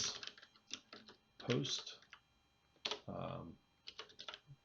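A command typed on a computer keyboard in a Kali Linux terminal: quick clusters of close keystroke clicks in uneven bursts, with someone briefly speaking between them.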